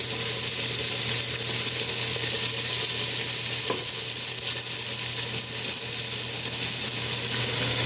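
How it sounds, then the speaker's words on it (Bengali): Round slices of bottle gourd (lau) fried as chops in a pan of hot oil, giving a loud, steady, close sizzle and crackle that runs without a break, with a faint clink partway through and no talking. "এখন লাউয়ের চপ ভাজি করছে।"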